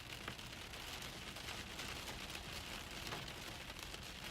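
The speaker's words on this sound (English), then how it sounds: "Dang, that hail. That hail is serious." Hail falling hard during a severe storm in Kansas, a dense, steady patter and drumming on surfaces with occasional sharper hits, close and continuous with no voices.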